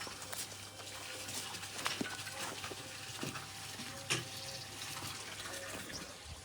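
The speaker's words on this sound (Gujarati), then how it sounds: "પાણી ચાલુ થઈ ગયું છે" Water runs steadily from a tap at a rural home where a cow is kept, a continuous hissing flow with a few small knocks and splashes, heard alone without talk.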